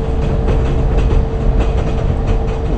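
A train rolling steadily along rails in Train Simulator 2021, a short express train between Hamburg and Hannover, with rhythmic clickety-clack over a low rumble and a faint constant tone, loud and continuous.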